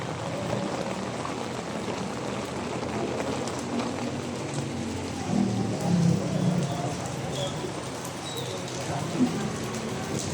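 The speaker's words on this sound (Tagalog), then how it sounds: "Lakas ng ulan." Steady, dense hiss of heavy rain pouring down, with a low rumble and a few louder splashes near the middle; no talking.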